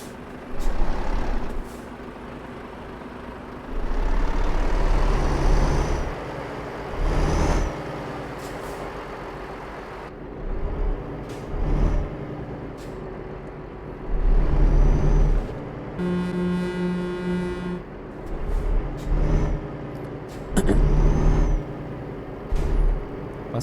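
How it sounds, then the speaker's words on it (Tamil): A truck in Euro Truck Simulator 2 rumbles through loud engine surges broken by hisses of air brakes, with a brief run of reversing beeps partway through. "வண்டியை ஸ்டார்ட் பண்ணிக்கலாம்."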